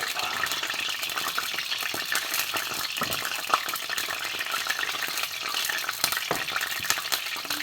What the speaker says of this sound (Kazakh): Мінекей майға 1 қасықтан котлетін салып атым.